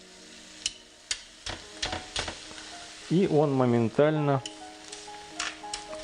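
A ribeye cap steak is laid into a very hot, dry pan with no oil and sizzles loudly at once, while someone speaks briefly over the hiss and faint clicks and taps come from nearby.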